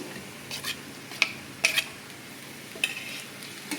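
Onion, ginger-garlic paste and chopped tomato fry in oil in a wok under a soft sizzle, while a spatula scrapes and clinks against the metal in a few sharp, irregular strokes.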